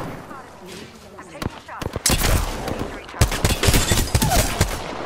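Gunfire in the video game Apex Legends, rapid bursts of automatic shots and sharp single cracks that grow denser and louder toward the end, with a voice speaking between the volleys.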